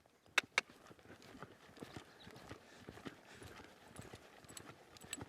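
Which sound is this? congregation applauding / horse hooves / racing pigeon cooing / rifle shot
horse hooves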